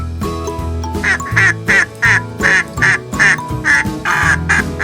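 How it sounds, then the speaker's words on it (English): A duck quacks in a steady series of about ten loud, evenly spaced calls over background music, close and clear. "Quack, quack, quack."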